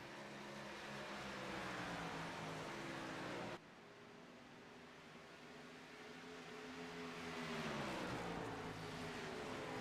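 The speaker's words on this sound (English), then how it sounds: "As you guys can hear the engines nice and loud" Race car engines in a sim racing video game droning steadily and loudly, layered tones holding close, with a sharp drop in level partway before the roar climbs again.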